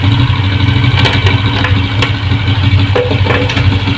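A Honda CG125 motorcycle idling nearby with a misfire, its steady loud engine note broken by an irregular stumbling beat.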